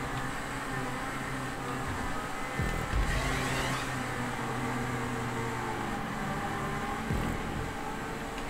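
A custom car's engine in a racing video game drones steadily with a noisy, whooshing tone, swelling in brief revs and shifts, continuous and fairly close with no talk.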